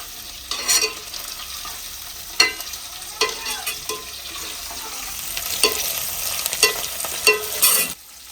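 Green chillies and onions fry in a little oil in a pan, giving a steady close sizzle broken by scraping stirs and clattering spoon knocks, with no talking.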